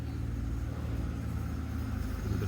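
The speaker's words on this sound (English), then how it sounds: "little bit of traffic back here for sure" Steady low road traffic rumble from behind a resort in Punta Cana, a continuous hum of passing cars heard at a moderate distance with no voices over it.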